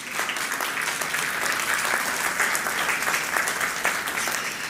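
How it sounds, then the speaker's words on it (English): Audience applause at the live launch event for the MTG-S1 and Copernicus Sentinel-4 satellites, a warm, steady round of many hands clapping, even and continuous at moderate volume. "Let's give them a super warm round of applause."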